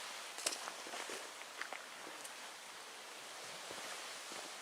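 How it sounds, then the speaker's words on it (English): Waves washing onto the Lake Superior shore beside a backcountry campsite in Michigan's Porcupine Mountains make a soft, steady hiss. A few faint crunching steps and clicks sound close by. "But just hearing the sound of the waves."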